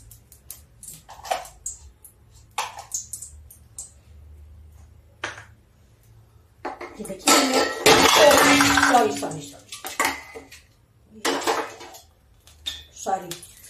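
Metal cookware clatters and scrapes loudly in bursts, a wok with vegetables stuck to it and pans banging, with a few quieter clinks before and after.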